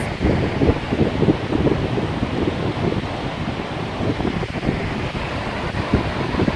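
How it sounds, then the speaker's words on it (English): Ocean waves rolling onto a foggy beach, a steady broadband wash of surf mixed with wind buffeting the microphone, continuous and fairly loud with no speech. "here, I'll let you see the waves"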